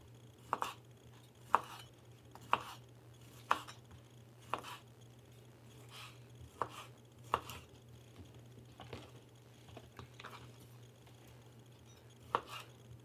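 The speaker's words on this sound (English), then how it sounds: "This is basically spiced smoked sausage. We're going to cut this up" A knife cuts spiced smoked sausage on a board for a shrimp boil foil pack, giving about a dozen crisp, evenly spaced chops close by over a low steady hum, with no talking.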